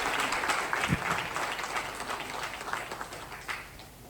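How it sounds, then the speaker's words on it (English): A conference audience applauds at a summit after a keynote talk, sustained dense clapping from a large crowd filling the room, steady and fairly loud for the full four seconds, with no distinct speech on top. "Give a huge round of applause."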